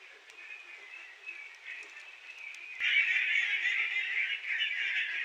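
Ducks and chickens in a pen honk and cluck in a continuous, moderately loud chorus. The calls grow louder and denser about halfway through. A faint voice may be present underneath.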